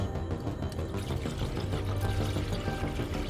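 Liquid chemicals being poured through a funnel into an abandoned Ford F550 truck, a steady continuous gurgling pour running throughout at moderate, close level with no talk.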